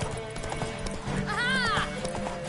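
Horse hooves clip-clop in a fast gallop during a horse race in The Witcher 3 video game, with a brief whinny rising over the rhythmic hoofbeats and game music.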